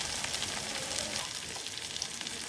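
Freshly grated raw coconut, about half a cup, hits a hot pan of chicken curry, setting off a loud, steady sizzle and crackle that stays constant throughout, close up, with no voices.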